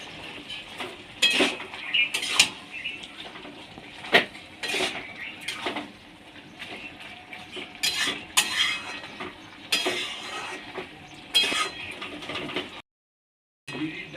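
Spoon scraping and clinking in a pan as banana-flower stem curry is stirred and fried with chilli powder, in a run of irregular bursts, with birds cooing and chirping faintly nearby.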